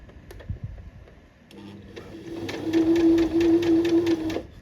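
A sewing machine stitches a second row along a shirred dress seam, first in a few slow taps and then running steadily with a rapid rhythmic whir for a couple of seconds, close and clear.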